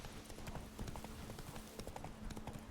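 Roach, a horse in a video game, trots with steady clip-clopping hooves, a quick regular rhythm that is fairly close but quiet, with faint ambient hum beneath.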